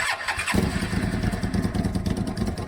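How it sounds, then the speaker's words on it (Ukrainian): A Hyosung 650 motorcycle is cold-started with the starter button and no throttle: a short starter crank, then the engine catches into a loud, rapid, steady idle close by. "заводжу його на холодну, реально, от як є натиснув, газ не даю, кнопочку натискаю"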